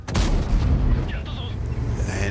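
A heavy tank cannon in World of Tanks fires a shell at a T28 from a Tier 8 Japanese heavy tank, a sharp loud boom at the start with a rumbling low tail and battle noise continuing throughout.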